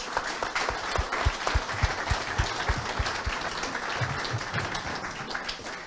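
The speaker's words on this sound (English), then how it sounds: "A round of applause for Ciaran coming up here." An audience at a hurling roadshow event applauds as Limerick hurler Ciaran Carey comes up, steady close clapping with a few sharp individual claps standing out, continuous throughout.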